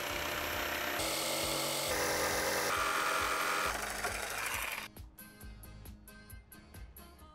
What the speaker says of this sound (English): This is the saw we're gonna use for this.